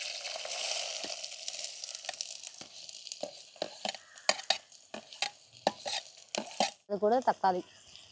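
Onion, garlic, ginger, green chilli, curry leaves and coriander sautéing in a pan, with a soft sizzle under repeated scraping and clinking stirring strokes, close and fairly quiet.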